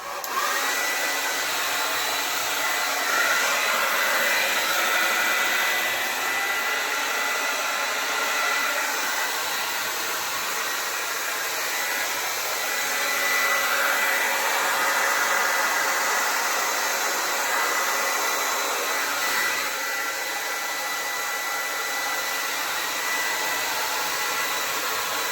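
A hair dryer blows steadily onto freshly poured acrylic paint, a loud, close, continuous airy roar that barely changes for the whole stretch, with no voices.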